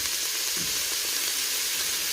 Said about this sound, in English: I added in our chopped garlic, and I'm just going to go ahead and stir fry that for a moment